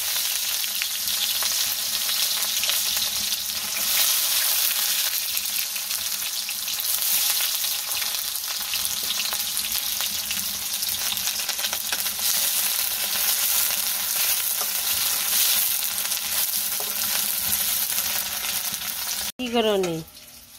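Spices frying in hot oil for a jackfruit curry, a loud, steady sizzle that runs almost the whole time with no break, then stops sharply near the end. A short stirring scrape follows.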